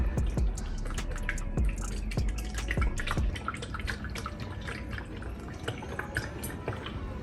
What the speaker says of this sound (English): let's get me a little funnel here and let's pour some product in here